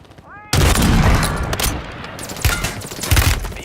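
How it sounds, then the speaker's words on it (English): Mortar strike in the Warzone video game: a sudden loud barrage of explosions and rapid blasts bursts in after a quiet moment, rumbling on with repeated booms and crackling impacts. "Friendly mortar strike on the way."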